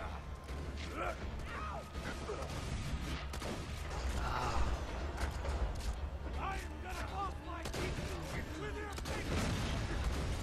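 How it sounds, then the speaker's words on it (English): A cannon blows apart amid gunfire during a Borderlands 2 boss fight, with scattered shots, metallic clanks and a mid-clip burst blending into busy game effects under a narrating voice. "Once you've done enough damage, the cannon itself will explode"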